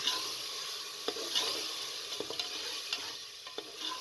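Soaked mash dal frying in hot oil in a pan, a faint, even sizzle with occasional light spatula scrapes and taps, close by and without voices.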